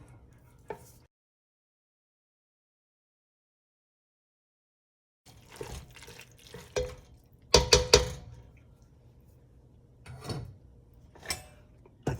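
A spoon scraping and clinking against a pot while stirring sauce for American chop suey (goulash), in short irregular bursts after a long silent gap, close and fairly quiet, with a few louder knocks.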